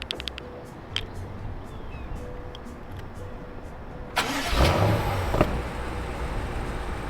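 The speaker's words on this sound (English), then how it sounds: "I was in reduced now, so we're gonna start it now" A BMW engine in reduced exhaust sound mode cranks and fires at about four seconds, a brief burst settling into a steady idle after a quiet stretch with a few faint clicks.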